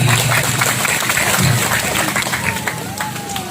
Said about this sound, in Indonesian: Kita tepuk tangan untuk panitia kita hari ini.